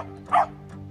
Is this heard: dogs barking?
yes